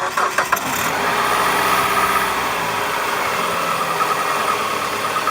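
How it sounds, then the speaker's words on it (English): A PT Cruiser engine cranks with a few quick starter chugs, catches, then settles into a steady, close idle that hums evenly to the end, just after a thermostat change and coolant top-off. "we're going to go start the engine"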